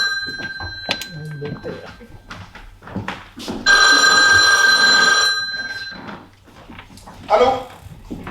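A telephone rings loudly with a sustained electronic bell for about two seconds amid a stage play's indoor scene, with voices talking before and after it.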